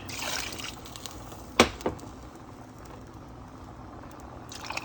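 Water runs into a pot of rice and beans with a soft trickling, splashing sound, including one brief sharper splash, heard close and faint with no talking.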